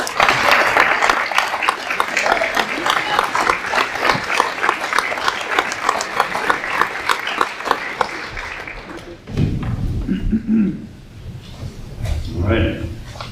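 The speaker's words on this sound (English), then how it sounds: "So I hope we can at least applaud loud enough that he'll hear it" A town meeting audience in Canterbury, New Hampshire claps for about nine seconds, a fairly close, moderately dense round of applause that fades out before a speaker resumes talking.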